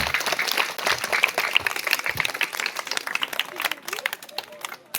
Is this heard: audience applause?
yes